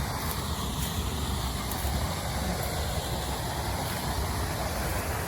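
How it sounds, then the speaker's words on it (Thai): A mountain waterfall in a forest pours down the rocks as a constant, even rush of water, moderately loud and unbroken, with no talking over it. "น้ำตกไหลมาจากเขาช่วงเขา"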